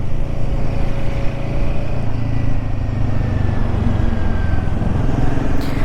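A Royal Enfield Himalayan 452 motorcycle engine drones steadily at a constant pitch, loud and close, with a low rumbling hum and no speech.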